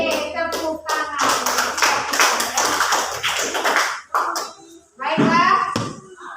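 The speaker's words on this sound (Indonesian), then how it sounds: "Oke, tepuk tangan." A class of schoolchildren claps hands in quick, sharp, rhythmic beats, loud and close, mixed with children's voices calling out, with a few final claps at the end.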